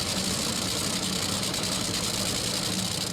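An NHRA drag racing car engine idles with a steady, dense, loud rumble that holds constant throughout, heard close with no voices over it.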